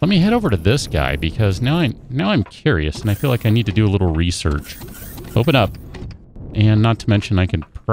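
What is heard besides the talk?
None of the usual background noises is heard.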